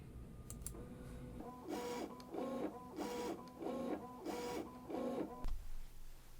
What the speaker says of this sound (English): I've loaded it into my machine, and we're going to let it cut out some test lines.